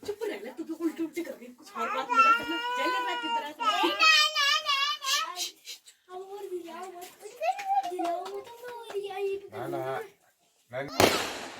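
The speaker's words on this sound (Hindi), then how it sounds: "चला रहे हैं पटाखे" At a wedding procession in Uttarakhand, children chatter and laugh for a while before a single sharp, loud firecracker bang goes off close by near the end.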